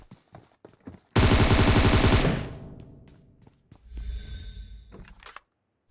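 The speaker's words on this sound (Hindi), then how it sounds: "साइड में हल्का सा पीक करके गोली चला देता हूँ" A loud, rapid burst of automatic gunfire rings out in PUBG Mobile, about a second of dense shots, then a fading tail and a softer thump and rustle afterward.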